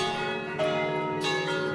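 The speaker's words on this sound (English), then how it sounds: "for everyone to hear the bells finally ringing" Church bells ring with sustained metallic tones, two clear strikes a little over half a second apart, each ringing out over the lingering hum of the last.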